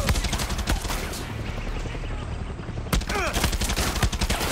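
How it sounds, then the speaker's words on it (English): Rapid bursts of gunfire crackle through a Far Cry 6 firefight, with dense overlapping shots and a sharp volley near the middle, all heard up close and loud. "Who's shooting?"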